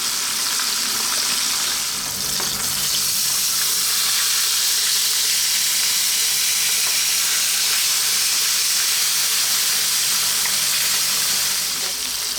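Whole salted tilapia frying in hot oil, a loud, steady, dense sizzle and crackle that holds without a break from start to finish, close by, with no talking over it.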